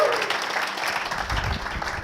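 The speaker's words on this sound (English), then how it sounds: "round of applause" Audience applause at a startup weekend event in Bahrain, dense continuous clapping from a crowd filling the room, fairly loud with a low murmur of voices underneath.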